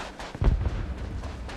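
A railgun shot fired at the player's own feet in a first-person shooter video game, exploding in one heavy, deep boom that rolls off over about a second.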